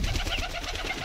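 A Kedu pigeon coos close by in a short, soft, throaty burble, with no talk.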